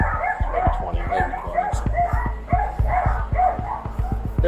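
Many dogs and puppies in a hoarding home bark, yip and whimper in a close, constant overlapping chorus of sharp repeated calls.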